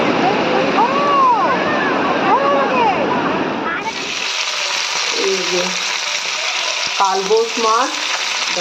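Kalbasu fish frying in hot oil in a home kitchen, giving a loud dense sizzle that drops to a softer steady hiss, with someone talking over the later part.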